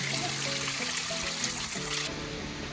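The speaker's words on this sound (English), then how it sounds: "And then there's a waterfall here." Water falling in a national park canyon, a steady rushing trickle and splash heard as continuous moderate noise, with a faint tonal hum underneath.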